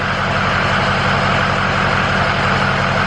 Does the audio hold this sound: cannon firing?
no